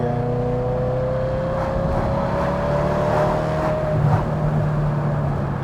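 A Maserati Cambio Corsa's Ferrari 4.2 V8 pulls hard in third gear, its engine note climbing steadily toward 4,500 rpm as a loud continuous drone inside the car, with no talking.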